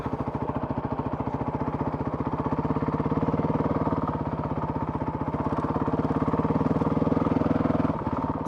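A Honda CRF 450 RL dirt bike engine runs at steady idle-to-mid revs with a fast, even pulsing beat and a brief throttle change near the end, loud and close with no talking.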